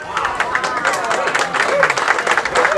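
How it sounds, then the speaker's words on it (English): Applause from a crowd at Park Place Lanes bowling alley for a bowler during a televised match, steady dense clapping throughout with faint crowd murmur beneath. "And a well-deserved round of applause here at Park Place Lanes"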